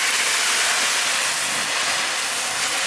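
Cardamom, cinnamon and onion paste hit hot mustard oil for a Bengali prawn malai curry, giving a loud, continuous broadband sizzle that holds steady throughout with no talk.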